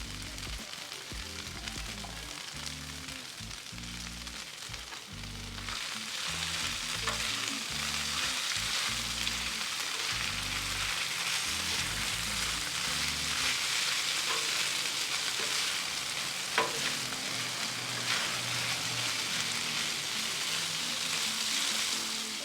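Potatoes sizzle and fry in olive oil on a griddle, a loud continuous hiss with occasional stirring scrapes, while low music plays underneath at the start.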